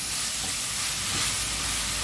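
Onions fry in hot oil in a pan with salt added, giving a steady, dense, loud sizzle and hiss that runs unbroken throughout.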